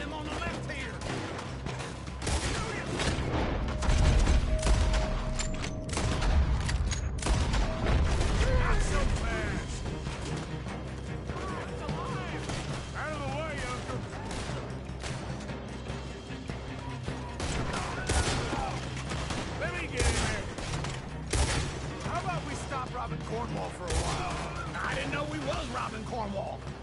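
Heavy gunfire and explosive shooting in a Red Dead Redemption 2 shootout against a horde of attackers, loud and continuous, with dense rattling bursts and crashes under frequent shouting voices.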